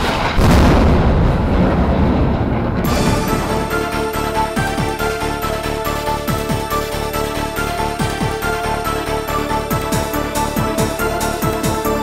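A loud gun discharge booms at the start, a big explosive blast with a long rumbling decay, followed by a sustained shimmering ringing tone with faint rhythmic pulses.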